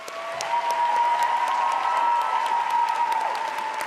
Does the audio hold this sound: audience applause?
yes